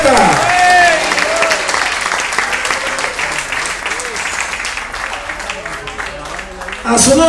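A church congregation applauds loudly and continuously, dense clapping filling the room with voices and cheers mixed in, with a brief swell near the end.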